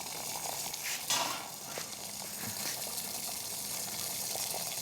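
Water at a rolling boil in a pot on a small DIY wood-gas camping stove burning wood pellets, a steady close bubbling and hiss with occasional louder pops.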